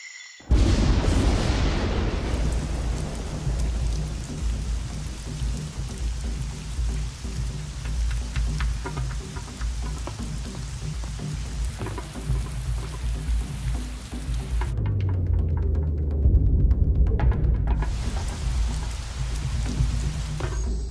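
Rain pours steadily over the Amazon rainforest, a dense, continuous hiss of falling water layered with deep, rumbling low thuds that swell louder toward the end.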